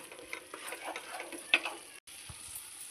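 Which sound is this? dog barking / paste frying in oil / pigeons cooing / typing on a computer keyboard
paste frying in oil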